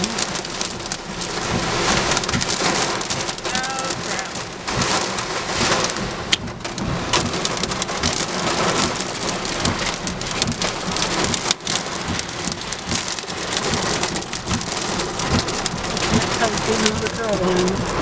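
Severe thunderstorm in Auburn, Massachusetts, with heavy rain pounding steadily and loudly throughout, broad rumbling thunder underneath, and no one talking.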